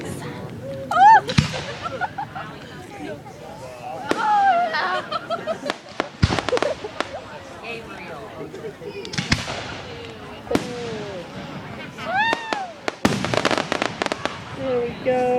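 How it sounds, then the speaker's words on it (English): Fourth of July fireworks bursting in sharp, loud cracks and booms spread through the scene, with whistling rising shells, while people talk, cheer and laugh excitedly throughout. "This is fireworks."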